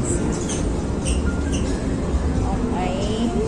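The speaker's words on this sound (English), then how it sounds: "The train is here now." An MTR subway train pulls into Admiralty station in Hong Kong with a continuous low rumble and faint rising wheel squeals and whines near the end, while people talk over the busy platform noise.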